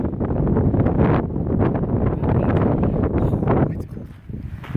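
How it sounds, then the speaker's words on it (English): Wind gusts steadily across a hiking trail on the Pacific Crest Trail near White Water, buffeting the microphone with a loud, rushing roar that swells and dips without pause. "The nice thing is the wind is at my back."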